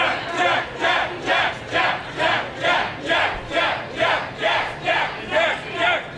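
A live wrestling event crowd chants and shouts in a loud, rhythmic pattern of about a dozen evenly spaced surges, the whole audience roaring together in a large venue.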